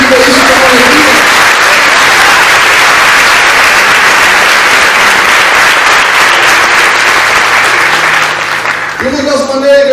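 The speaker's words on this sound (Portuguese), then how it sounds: "Você pode aplaudir Jesus e por isso com alegria." A church congregation applauding during a communion service, sustained loud clapping from many hands that fills the room for several seconds before tapering off as a voice begins speaking.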